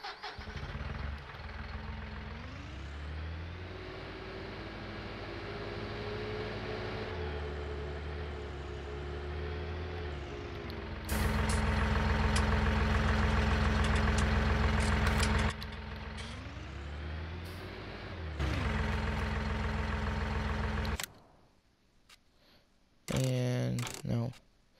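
A tractor engine runs at idle nearby, a steady low rumble that shifts in pitch, surges louder in two stretches and then cuts out near the end, with a few brief knocks afterward.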